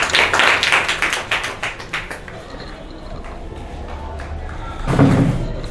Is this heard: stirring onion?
no